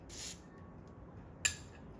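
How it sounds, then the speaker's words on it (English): Two short hissing bursts of WD-40 aerosol sprayed onto a hose fitting on a Nissan Frontier engine, the first a soft quarter-second puff and the second a sharper, brief spurt, close and otherwise quiet. "spray a little WD-40 on there"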